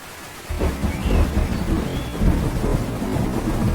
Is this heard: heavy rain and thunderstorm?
yes